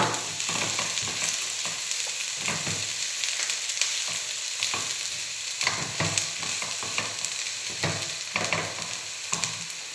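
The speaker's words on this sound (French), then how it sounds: "on va commencer par faire suer nos échalotes ciselées finement dans le beurre" Finely chopped shallots sweat in butter in a pan, giving a continuous close sizzle broken by scraping stirs from a utensil, with no talking.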